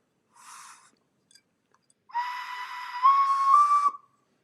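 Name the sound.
blowing a vintage crocodile-shaped whistle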